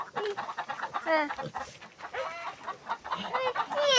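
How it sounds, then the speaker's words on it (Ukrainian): Chickens cluck and squawk busily, several birds calling over one another in a continuous, agitated chatter close by. "Кури, кури в кіпіші."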